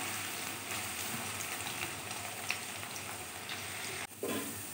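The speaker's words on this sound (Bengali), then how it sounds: "আলুটাকে একটু লাল লাল করে ভেজে তুলে নেব বন্ধুরা" Potatoes frying steadily in hot oil, a continuous close sizzle with a brief stir or clatter near the end and no talking.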